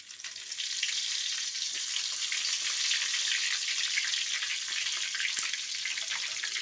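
Dried chilies and curry leaves fry in hot oil in a pan, making a steady, loud crackling sizzle that runs on with no break.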